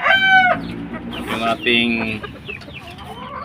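A Cuban tiger hen cackles in loud, close bursts of harsh calls, with short pauses between them and a voice speaking briefly over the calls.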